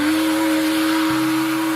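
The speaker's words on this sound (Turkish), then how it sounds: "Şimdi fön makinesiyle de biraz fön çekelim müşterimizi." A toy hair dryer from a hair salon playset blows with a steady motor whine and airy hiss, loud and close, its tone dropping slightly partway through, with no talking.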